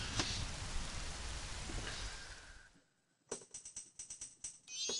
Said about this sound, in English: And it rains on the second day